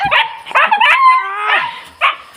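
Two noisy dogs bark and yip excitedly in a few quick, close, loud bursts, with a drawn-out whining howl between them.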